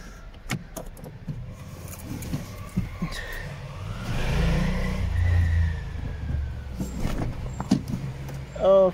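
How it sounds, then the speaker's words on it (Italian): An Alfa Romeo 159 started with a duplicated key: soft clicks and interior handling noises, then the engine cranks and catches with a low rumble that swells and settles into idle. "E quindi, solita prova della messa in moto."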